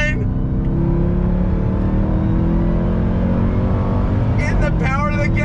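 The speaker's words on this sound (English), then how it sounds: "The sound of that supercharger whine." A 2021 Dodge Durango Hellcat SUV accelerates under full throttle, its engine roaring loud and steady with a rising supercharger whine, and an excited voice calls out over it near the end.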